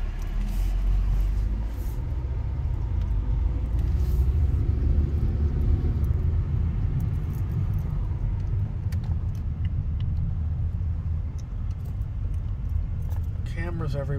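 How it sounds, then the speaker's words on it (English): Construction trucks rumbling past on a residential street in Holmby Hills–Bel Air, Los Angeles; a steady, loud low engine drone lasting throughout, with the nearest pass around the middle and lighter clinks and rattles on top. "construction trucks are going by"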